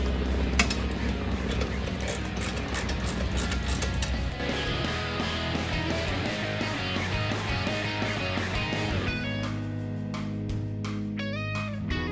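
Valve cover bolts being tightened on a 2.3L turbo Ford engine, giving steady close mechanical clicking and creaking from a ratchet-like tool, with metallic clinks and a continuous low hum underneath throughout.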